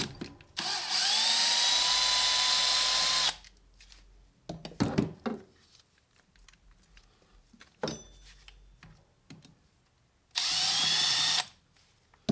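Power tool driving out the alternator screws on a Mercedes E55 AMG: two sustained high whirring bursts, one at the start and one near the end, with quieter clinks and handling noises between.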